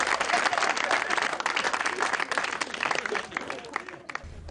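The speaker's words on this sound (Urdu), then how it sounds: "تالی بجاؤ بھائی" An audience bursts into dense applause during a political talk show, loud and continuous at first, then thinning and fading as the clapping dies away near the end.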